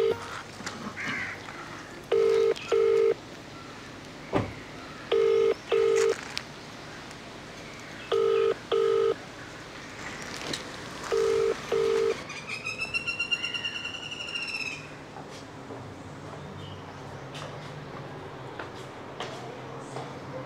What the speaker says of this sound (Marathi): नंतर आम्ही फोन मारलो हांगचे आमदार कार्लूस फेरेरा हांकां